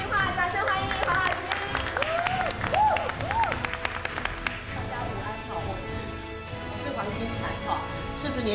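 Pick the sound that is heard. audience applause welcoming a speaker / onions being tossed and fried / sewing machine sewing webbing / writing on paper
audience applause welcoming a speaker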